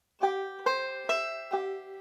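Four bright plucked notes ring out in a quick rolling sequence, each attack crisp with a twangy sustain, played alone with no voices.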